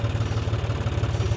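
A farm tractor engine runs at a steady idle close by, giving a loud, rhythmic low-pitched thudding chug with a faint clatter and no talk over it.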